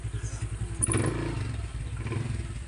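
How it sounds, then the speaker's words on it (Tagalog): A nearby motorcycle engine ticks over with a pulsing low throb, joined by a brief clatter and scrape, short and moderately loud. "yun po yung motor ni Mara"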